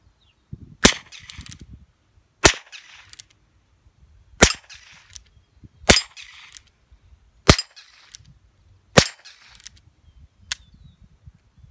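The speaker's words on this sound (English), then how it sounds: "you can shoot 22 shorts in your Heritage Rough Rider too" Seven sharp, evenly spaced cracks of 22 short rounds fired from a Heritage Rough Rider revolver ring out close by, each followed by brief quiet handling noise between shots.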